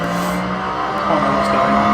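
Tyres squealing under a locked wheel in the racing game Assetto Corsa on Xbox One, a steady high whine over a continuous car engine drone, loud and sustained, with no talk.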